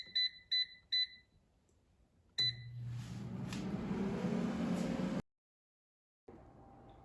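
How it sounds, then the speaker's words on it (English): An air fryer cooking meatloaf gives three quick bright beeps when its timer finishes, then one more beep as its fan hum starts up, runs steadily, cuts off into silence and returns more quietly. "Now the air fryer is done cooking"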